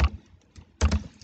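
Typing QBasic code on a computer keyboard: two short bursts of close key clicks, a quick cluster at the start and another after a brief pause.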